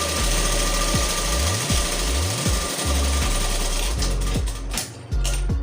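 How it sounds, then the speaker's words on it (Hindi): A sewing machine runs a straight seam on a belt-style salwar, a loud, close, continuous motor whir with a rapid needle clatter that briefly slows and surges. "सीधी सीधी सिलाई लगा लेनी इस पे"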